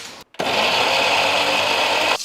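A loud mixer grinder whirs steadily for about two seconds after a brief pause, then cuts off abruptly.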